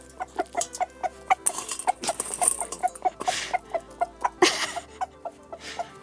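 Hens cluck softly and contentedly in a steady stream of short notes, close by, with some rustling and a few louder squawks.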